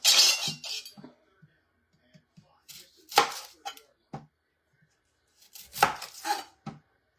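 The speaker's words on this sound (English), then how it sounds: "Let me cut my onion really quick." A knife chops through an onion on a cutting board in a home kitchen while cooking chilaquiles, giving a few short bursts of quick, crisp cuts with pauses between them and no talking.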